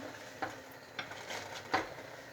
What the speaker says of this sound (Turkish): Böyle alttan üste doğru şöyle karıştıralım.